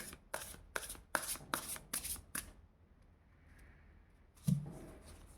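Tarot cards are riffled in a quick run of about seven crisp shuffles, close and fairly loud. After a short pause comes one more rustle with a soft thump.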